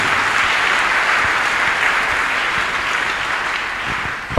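A church congregation applauds at a healing testimony service: dense, loud, sustained clapping that holds steady throughout, with no talking.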